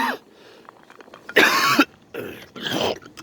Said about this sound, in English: Don't mind the cough, guys.